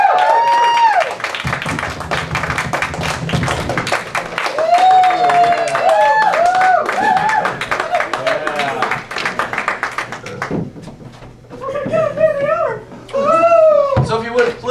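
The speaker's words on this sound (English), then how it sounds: "give a big, thunderous round of applause as we bring the improvisers to the stage" An improv-marathon theatre audience gives a big round of applause as the performers come on stage, with clapping mixed with cheers, whoops and voices that rise and fall, then swell again near the end.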